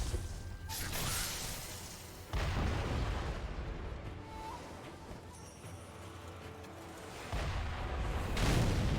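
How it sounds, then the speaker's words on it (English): Explosions in the video game Sekiro: loud, broadband booms bursting in at the start, again around two seconds and near the end, with a rumbling low-end wash sustained between them. "Just big fucking explosions from somewhere."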